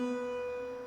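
Two tiple strings tuned to the same note an octave apart ring together, blending a bright high tone with a deeper one in a brief, quiet, steady sustain.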